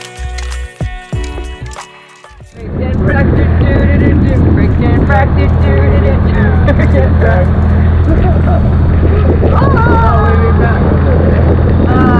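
A large outboard motor runs steadily and loud while a boat threads the narrow rocky Hangdog Channel on Georgian Bay, its drone taking over after a brief gusty start, with people talking over it.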